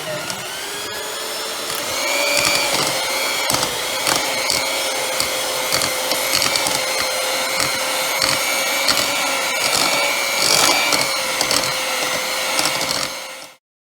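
An electric hand mixer whirs steadily through eggs, butter and sugar, a loud continuous hum that starts after a couple of seconds and cuts off abruptly at the end, with faint clatter against the bowl.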